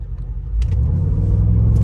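Deep engine rumble from a Brabus Rocket 900 G-Wagon on a race track swells at about half a second into a loud, sustained full-throttle roar at close range.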